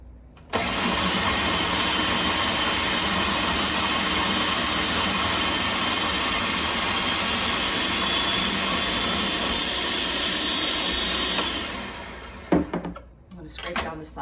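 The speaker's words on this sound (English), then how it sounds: "You have a food processor, you know all about this." Food processor whirring steadily while extra virgin olive oil is slowly added to pesto, a loud continuous motor drone for about eleven seconds that then cuts off, followed by a few handling clunks.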